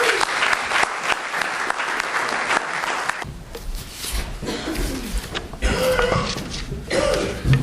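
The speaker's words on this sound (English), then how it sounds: "Let's give him a round of applause" An audience gives a sustained round of applause for Tom Baker at a church gathering, with dense, steady clapping that stays loud throughout and swells slightly near the end, with no talk over it.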